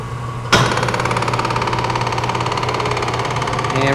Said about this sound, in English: We'll let the motor wind down completely, and then we'll reverse it. Okay. Now we'll engage the clutch again.